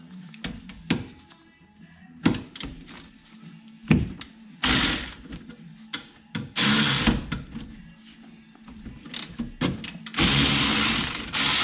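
A wrench ratchets and clicks in irregular bursts, loosening the two 14 mm bracket bolts from a brake caliper on a Mitsubishi FTO, with sharp metallic clanks between the louder ratcheting runs.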